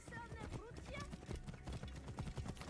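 Horse hooves clatter in a steady rapid rhythm during a chariot or horse race in Assassin's Creed Origins, close and continuous, with voices speaking over it.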